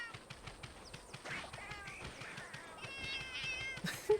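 A cat in Monster Hunter Generations Ultimate gives several short, high meows spread through the clip over a busy backdrop of game footsteps and thuds, with a brief sharp blip near the end.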